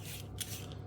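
Parsnips being peeled, a short, quiet scraping rasp of a peeler against the root, heard close with no talking.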